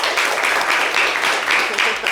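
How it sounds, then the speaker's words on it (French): Audience clapping at a live Valentine's Day show, a short burst of steady applause with slightly uneven pulses throughout. "Applaudissez pour Prince"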